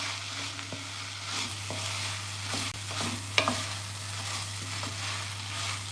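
Pieces of fresh coconut sautéing in a pan on the stove, a soft continuous sizzle broken by scattered stirring scrapes and small clicks, close by and without speech.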